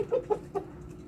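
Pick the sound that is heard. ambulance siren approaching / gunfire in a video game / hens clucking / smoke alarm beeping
hens clucking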